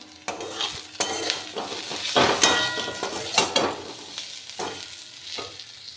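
Salt, turmeric and Kashmiri chilli powder get mixed in a hot pan, a spoon scraping and clinking against the metal in a run of sharp strokes over a light sizzle, close and fairly loud.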